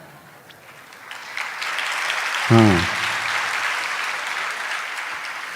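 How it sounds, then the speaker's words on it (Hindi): Audience applause during a Jain religious sermon in Jabalpur, a steady broadband clapping that swells in after about a second and continues throughout, with a brief spoken word near the start. "अब तालियां बजाते हमारे लिए बजाते हैं, स्वयं के लिए बजाते हैं।"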